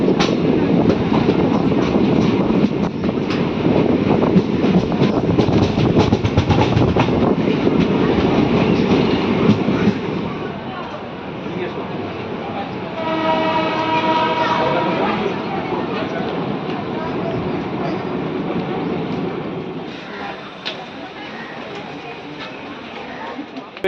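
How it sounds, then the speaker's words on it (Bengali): A passenger train rolls through Bhedia station near Bolpur with a steady, loud rumble and rail clatter, easing somewhat midway as tonal squeals and a horn-like whine appear, while people talk over the noise. "আমাদের ট্রেন পাস করছে ভেদিয়া স্টেশন।"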